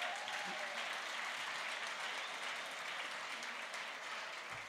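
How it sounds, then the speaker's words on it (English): Audience applause at a gala dinner, a broad, steady roar of many hands clapping from a sizable crowd in a large room, continuous and even throughout, with some faint voices mixed in. "Let's give them a round of applause."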